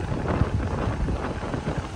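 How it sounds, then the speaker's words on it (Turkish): Seaside wind on the Aegean coast near Izmir buffets the microphone in low rumbling gusts, a steady close roar with no voices. "Ay şu deniz, rüzgar."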